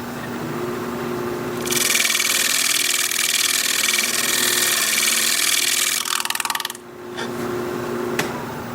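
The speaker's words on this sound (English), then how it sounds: "I'll be turning the gouge this way and doing some pull scraping on the side as I go" A gouge pull-scraping the side of a wood bowl turning on a lathe: a loud, steady broadband scraping that runs for about five seconds over the lathe's hum, then cuts off and leaves the machine running alone.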